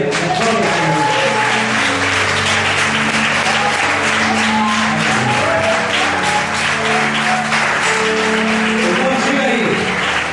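Loud, continuous applause from a large church congregation fills the space, with tonal music and voices sounding underneath throughout.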